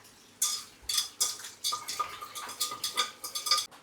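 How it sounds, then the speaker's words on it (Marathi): Dishes washed by hand clatter and clink in quick, uneven bursts as pots and utensils are scrubbed and knocked together at close range, with no talk over them. "चलो अब मैं पहले भांडी घासता हूँ, फिर मैं तुमसे बात करता हूँ."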